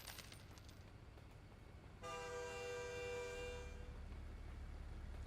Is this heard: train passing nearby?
yes